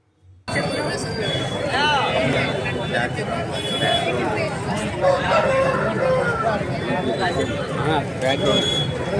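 A fighting rooster crows loudly and close several times, its drawn-out calls rising over a steady background of chatter and the clucking of other fowl at a busy gathering.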